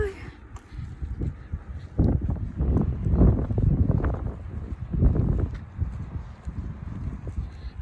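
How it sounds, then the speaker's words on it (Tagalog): Strong wind buffets and rumbles against the microphone in irregular gusts, with faint voices and rustling underneath. "Grabing hangin."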